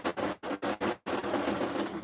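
A sewing machine stitching trouser fabric runs in four quick bursts with brief pauses, then hums in one longer steady run, close and clear.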